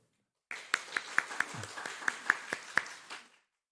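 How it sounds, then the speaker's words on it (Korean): Short burst of applause from a church congregation honoring young adults, a modest group clapping with distinct individual claps standing out, starting abruptly, lasting about two and a half seconds and tapering off. "박수 한번."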